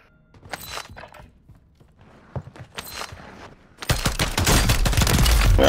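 Gunfire in the Call of Duty video game: scattered sharp single shots and short bursts at first, then a dense, loud sustained volley of rapid automatic fire in the final seconds, with no talk.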